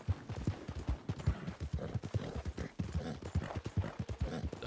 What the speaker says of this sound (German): Wir reiten an unserem Stall vorbei.